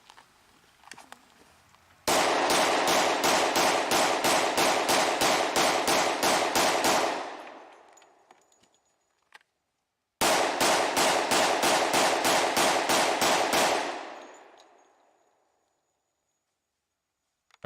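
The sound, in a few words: gunfire, Texas-style New York reload in 10 millimeter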